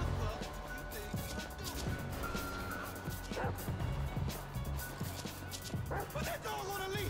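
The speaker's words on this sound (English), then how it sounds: "Come on, Chop. Come on. Go bite his ass" A dog attacking in the video game Grand Theft Auto V, with yips and short barks over a steady game soundscape of traffic and ambience, while someone talks throughout.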